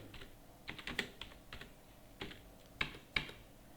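Keys tapped on a computer keyboard in quick irregular bursts, with a few louder keystrokes, quiet and close with no voice.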